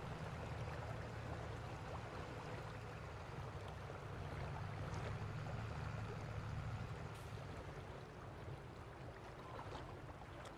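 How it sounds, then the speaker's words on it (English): Water flowing or lapping during an overseas trip, a quiet continuous wash of noise with no clear pauses, heard alone at low level. "I like how you hear the water."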